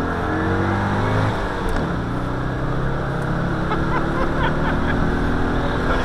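A Citroen 2CV engine straining as it accelerates uphill, a steady loud drone with shifting harmonic tones, running continuously close by with brief talk over it.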